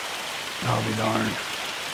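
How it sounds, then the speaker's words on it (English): Hail pelting down in the Farming Simulator 25 game, a dense steady patter with a brief spoken voice over it. "It's hail."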